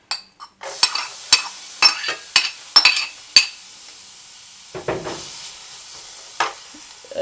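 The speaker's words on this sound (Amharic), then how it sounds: "ከዛ ሽንኩርቴን አረጋለሁኝ" Onions cooking in a heated pan for awaze, heard as a series of sharp metallic clinks and scrapes from stirring against the pan at a steady pace, then quieter scattered scraping, close and without talk.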